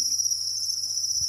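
Honey cricket breeders raised in a farming setup give a steady, high, continuous chirping trill that stays close and even throughout, with no voices.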